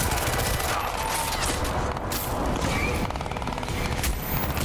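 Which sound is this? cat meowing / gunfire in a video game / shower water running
gunfire in a video game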